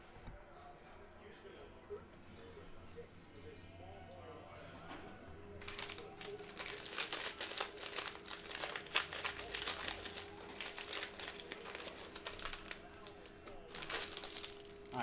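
Cello pack of Panini Mosaic basketball cards being torn and unwrapped, quiet handling at first, then dense crinkling and ripping of plastic wrapper up close, with a voice talking under it.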